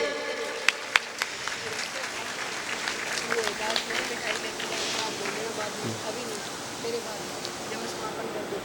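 Audience applause at a company annual function, a broad wash of clapping from a crowd lasting several seconds with a few sharper claps early on and faint voices mixed in.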